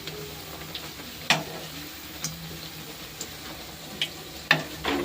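Eggplant beguni frying in oil in a wok, with a soft steady sizzle broken by several sharp crackles and pops at irregular intervals, close and moderately quiet.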